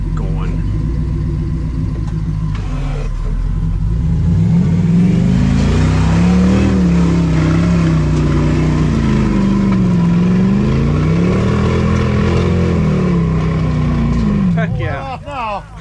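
An off-road vehicle engine revs hard and loud as it slips into gear and pulls away, a steady, rising and falling drone that wavers throughout, with voices faintly underneath.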